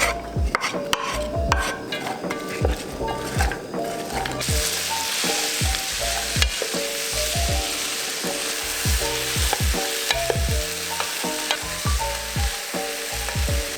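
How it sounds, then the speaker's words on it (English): Vegetables sauté on medium heat in an oiled Our Place Perfect Pot, a steady close sizzle with rhythmic scraping stirs and occasional utensil knocks against the pan throughout. "So let's start off by adding a tablespoon to our pot and add in our veggies"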